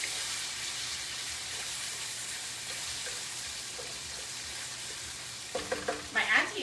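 Pork belly browning in a pan gives off a steady, moderately loud hiss and crackle throughout, with a few sharper clatters near the end.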